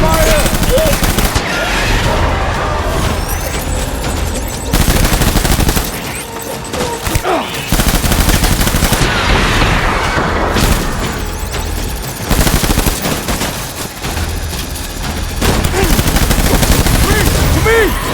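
Heavy gunfire in Death Stranding roars in loud, sustained volleys of rapid shots, swelling and easing in long bursts with brief lulls, with shouted voices breaking through the noise.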